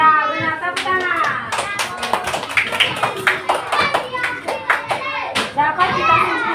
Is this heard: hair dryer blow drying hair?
no